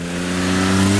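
A Suzuki Jimny JA11's small F6A three-cylinder engine revving up, a loud steady buzzing drone that rises slightly in pitch and volume over one second, close and with no talking.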